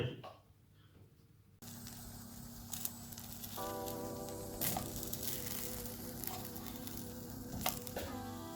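Potato and vegetable slices fry in a pan for moussaka, a quiet lead-in followed by a steady soft sizzle with scattered crackles and occasional utensil knocks, a faint tonal hum running beneath, and no one speaking.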